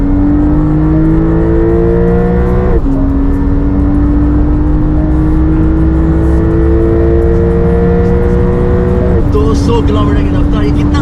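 A standard Porsche 911 Carrera accelerates at full throttle along a track's back straight, its engine note climbing steadily through gears with brief drops at the shifts, loud and close throughout.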